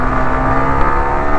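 A 2024 Yamaha R15 V4 motorcycle engine runs loud and steady under throttle, a dense, continuous roar heard close during a ride.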